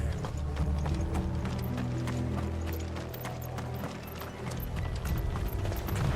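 Steady clip-clop of horse hooves trotting along, rhythmic and continuous, with a low rumbling backdrop and faint mechanical clatter in Final Fantasy XVI.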